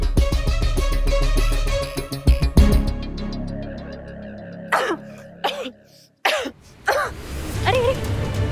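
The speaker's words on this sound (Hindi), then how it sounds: "कितनी खांसी आ रही है आपको।" A person coughs in several harsh, separate bursts with short pauses between them. The coughing follows a stretch of music that fades out.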